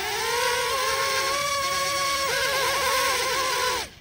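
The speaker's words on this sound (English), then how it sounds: "listen to it running full throttle." Small motors of a cheap under-$20 drone whine steadily at full throttle, a close, loud high-pitched buzz whose pitch shifts slightly partway through before cutting off at the end.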